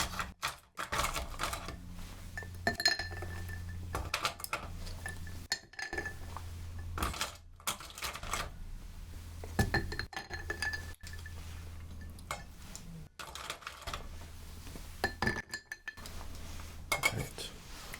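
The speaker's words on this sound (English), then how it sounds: "And then we're just going to need some ice." Ice cubes clink and rattle into a cocktail glass at a bar, a series of close, bright knocks and chinks set against steady background noise.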